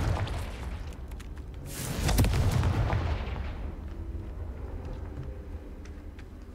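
A Confringo blasting spell in Hogwarts Legacy sets off a single sharp explosion about two seconds in, then a rumbling decay over a low, steady background.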